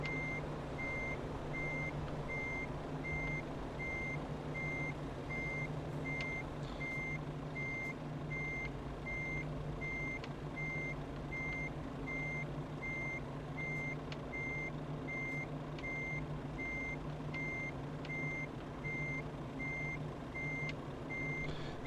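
A truck backing up in Euro Truck Simulator 2 sounds a steady run of evenly spaced reversing beeps over a constant low engine idle, with no voices.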